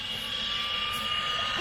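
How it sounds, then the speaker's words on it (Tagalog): A helicopter lifts off from a home's garden and pulls away, its engine whine and rotor roar held steady and loud throughout with a sharp high tone on top. "Guys, aalis na yung helicopter."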